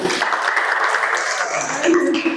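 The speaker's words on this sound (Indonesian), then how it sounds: "Tepuk tangan buat Budi" A group claps for Budi, loud close-up applause that stays dense and steady throughout, with voices murmuring beneath and a vocal tone rising near the end.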